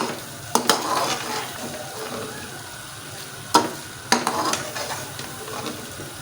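Masala tinda curry stirred in a pan, a soft low simmering sizzle broken by a few sharp clinks and scrapes of the spoon against the pan, in two clusters; no voices.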